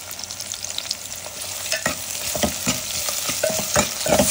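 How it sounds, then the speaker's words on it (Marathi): Onion masala frying in oil for a South Indian crab masala, with a steady close sizzle and repeated scraping stir strokes of a spoon against the pan, no voices. "ते मसाला मी परत थोडंसं तेलात परतून घेते।"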